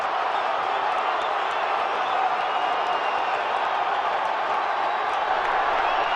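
Stadium crowd at a Copa America football match between Ecuador and Peru roars steadily after an Ecuador goal, a dense, continuous wash of distant cheering that holds level throughout without breaks.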